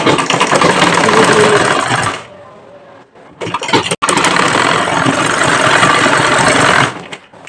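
Motorized sewing machine stitching the waistband fabric onto a salwar, running loud and steady in two long bursts with a short pause between, close by and without talk.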